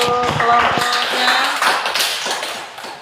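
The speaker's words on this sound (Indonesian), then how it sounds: "berikan tepuk tangan untuk kelompoknya" Students in a classroom clapping for a group that has just presented, a dense, steady burst of applause with a few voices mixed in at the start.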